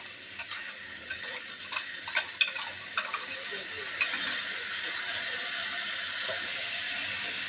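A spoon works tomato-chili paste, made from two tomatoes and green chilies, into a dryish vegetable curry of elephant-foot-yam stalks, jackfruit seeds and pointed gourd in a pan, with scraping knocks over a steady frying sizzle.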